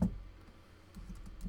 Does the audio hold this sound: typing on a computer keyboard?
yes